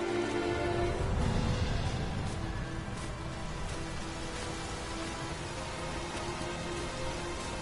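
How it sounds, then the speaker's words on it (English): Heavy downpour in Dragon's Dogma 2, a steady broadband wash of rain that stays loud and unbroken throughout with no talk over it. "This downpour seems unlikely to abate."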